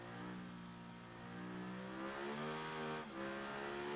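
A racing motorcycle's exhaust in the Ride 3 video game drones loud and steady with harmonic engine tones that climb and fall through shifts, a brief dip near the end before revving up again.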